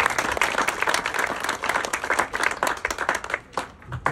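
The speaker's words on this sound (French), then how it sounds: "je pense qu'on peut les applaudir." Dense, steady applause from an audience at a heritage days inauguration, a close, bright wash of many hands clapping that sustains throughout and thins briefly near the end.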